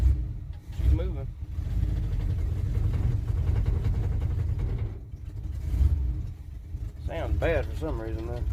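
A rough, low engine of a 1979 Chevy C20 pickup truck rumbles steadily as it pulls away in low gear, with brief bursts of talk near the start and end.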